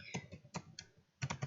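A word is typed on a computer keyboard in a few quick bursts of clicking keystrokes, close and fairly quiet, with short pauses between groups.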